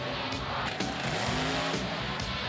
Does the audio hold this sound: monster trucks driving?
yes